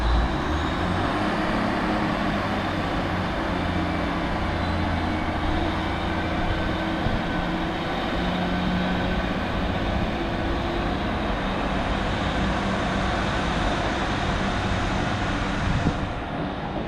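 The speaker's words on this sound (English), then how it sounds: "the train just leaving there for York" A steady low rumble of a train departing Driffield station for York, continuous and fairly loud, with a broad roar that holds evenly throughout and no talking.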